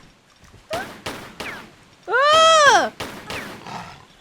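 Gunfire aimed at tigers in Tomb Raider 3: a few sharp, separate shots ring out, then a long, loud tonal cry, then more scattered shots.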